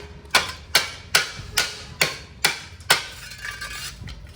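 Hammer strikes on a chisel chip at an item stuck fast to cement, six or seven sharp metallic blows spaced evenly about half a second apart, close and clear with ringing tails.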